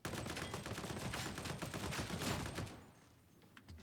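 Automatic gun hip-fired in Warhammer 40K: Darktide, a rapid stream of loud gunshots in a continuous burst that cuts off near the end, followed by quieter scattered shots.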